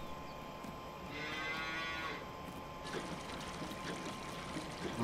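Dairy cows in Farming Simulator 19 moo while being milked, a single drawn-out low moo rising over steady farmyard ambience with faint trickling water in the background.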